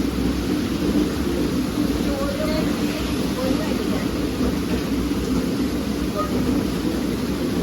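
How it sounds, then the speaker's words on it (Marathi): Heavy monsoon rain falls steadily with low rumbling that may be thunder, a dense continuous wash filling the whole stretch at close range. "पाऊस चालू झालाय भरपूर."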